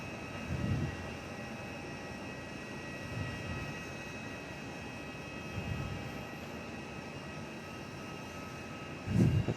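An 11-year-old airliner arriving at Perth Airport after a flight from Melbourne, heard as a steady, fairly distant engine drone with a faint whine, continuous and without speech.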